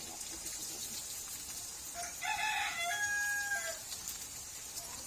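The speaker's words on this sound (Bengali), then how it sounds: "তোমার মোরগে ডাক দিচ্ছে" A rooster crows once at a distance in a village, the call rising and trailing off over a soft steady background hiss.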